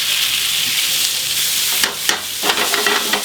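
Pork jowl pieces frying in fat in a pot for cassoulet, a steady bright sizzle with a few scraping knocks as the pieces are stirred and turned.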